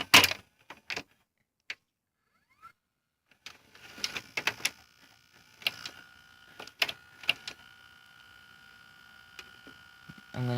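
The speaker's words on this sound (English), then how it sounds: "how a Funai cam gear works on this chassis" Mechanical clicks, clacks and short whirring bursts from a Funai-style cam gear mechanism turning inside a Hitachi VT-FX695A VCR chassis, irregular and close, with quiet gaps between the actions.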